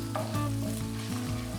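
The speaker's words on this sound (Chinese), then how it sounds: "蒜头压上蒜蓉下锅炒香" Minced garlic and pork mince sizzle in a wok, a loud close frying hiss with scraping stir strokes repeating at a steady pace, and no voices.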